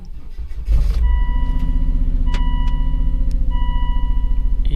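A Volvo V70 engine starts and then runs roughly nearby, its low rumble pulsing unevenly with stuttering, irregular beats like a misfire.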